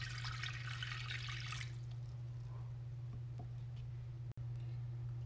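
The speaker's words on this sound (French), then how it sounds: "moi pour aller mettre de l'eau dans chaudière ça" Water poured into a cooking pot with a splashing, rushing pour over the first second and a half, then quieter drips and small movements over a steady low hum.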